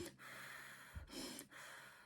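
A person imitates a panic attack with rapid, ragged gasping breaths and snorting inhales, a few sharp breathy bursts close to the microphone with short pauses between them.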